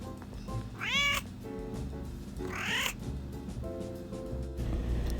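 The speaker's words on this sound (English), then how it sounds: "the cat says hello" A cat meows twice, rising and drawn out, nearby against a low background rumble.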